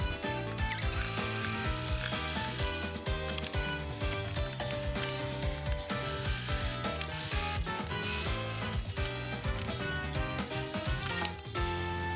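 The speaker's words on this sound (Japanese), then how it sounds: "ここをぐるっと一周ミシン掛けします" Rapid mechanical clatter of a sewing machine with a size 9 needle stitching thin synthetic fabric for a bag made from a Nagoya obi, a fast rhythmic chatter running continuously at close range.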